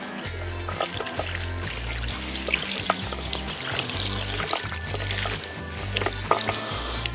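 Running tap water pours and splashes over a ThermTec Cyclops 335 SE thermal camera to rinse off sand, a steady close stream with irregular splatters and small knocks.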